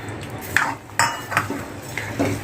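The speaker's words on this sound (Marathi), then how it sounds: "दूध घातले थोडंसं हलवूया" Semolina sheera with milk being stirred in a pan: a spoon clinks and scrapes against the metal in a handful of sharp, uneven knocks, close and moderately loud, with no talking.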